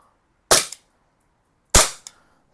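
Double Bell M1911 Mini gas blowback BB pistol firing two sharp, loud shots about a second apart, each followed by a quick blowback clack.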